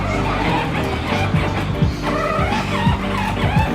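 Cars race past in quick succession, each whooshing by with a falling pitch sweep and some tire squeal, loud and near over a busy background.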